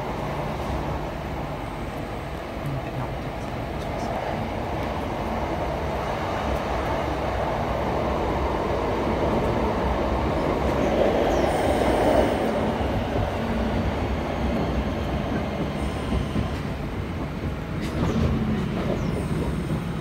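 Steady rumbling of a West Midlands Railway train in motion, heard from inside a carriage between Lichfield and Birmingham New Street, a continuous low roar with rattling that swells slightly midway, no voices.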